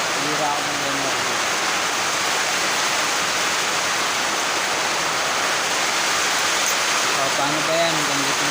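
Heavy rain pours in a steady, dense, loud roar that fills the whole stretch without a break, with a voice faintly audible beneath it at the start and end.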